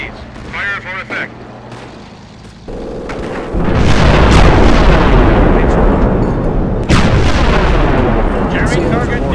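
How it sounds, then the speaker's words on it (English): Royal Artillery high-explosive barrage in the Company of Heroes Blitzkrieg mod: after a brief radio voice, a loud, sustained roll of overlapping booming shell blasts and gunfire fills the scene, with a fresh heavy wave of impacts partway through. "HE round, sweep 2 degrees. Fire for effect."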